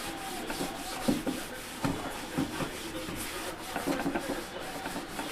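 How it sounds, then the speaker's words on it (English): Wax being rubbed off a fiberglass top, a steady close scrubbing rasp with rhythmic strokes and small knocks repeating over a few seconds. "Got to take the wax off of this one."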